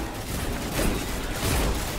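Rapid gunfire in the video game Destiny 2, a dense, continuous stream of loud shots blurring into one crackling barrage.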